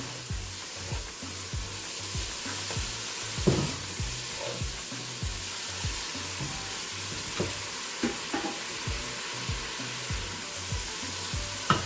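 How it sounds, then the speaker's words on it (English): Ginger garlic paste sautés in a pan for a Lebanese meat pie filling, a steady close sizzle broken by regular scraping strokes of a spoon stirring through it, with no talking. "We're going to add the ginger garlic paste and saute for 2 minutes."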